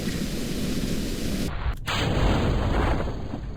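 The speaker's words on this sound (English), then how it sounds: "activating the rockets in 3, 2, 1" Rocket engines igniting in Kerbal Space Program: a steady rushing roar that shifts at ignition with a brief sharp break, then continues as a heavier, louder low rumble with a thin high whine.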